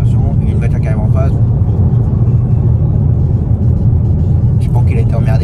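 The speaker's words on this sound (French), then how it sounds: "Attention, il y a une voiture qui arrive en face." An oncoming car passing on a road, heard as a loud, close, steady low rumble of engine and tyre noise inside a moving vehicle, with brief bursts of speech at the start and end.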